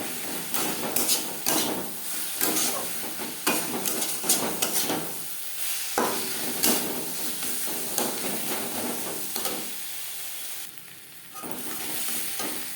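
Spices with turmeric powder and salt fry in a pan over low to medium flame, hissing steadily while a utensil scrapes and taps against the pan in irregular strokes, close up.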